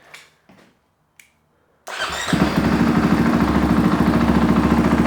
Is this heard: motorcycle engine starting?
yes